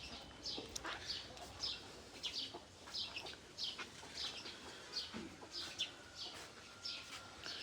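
Newly hatched chicks beside their mother hen peep in quick, high, repeated bursts, faint and fairly distant, with soft rustling beneath.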